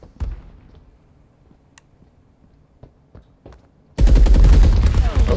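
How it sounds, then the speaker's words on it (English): MP40 submachine gun fire in the game Marauders: a few scattered taps and thumps give way to a sudden loud, close, rapid automatic burst that continues to the end. "Fully stacked MP40? That's like gold right now."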